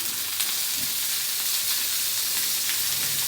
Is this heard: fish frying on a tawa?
yes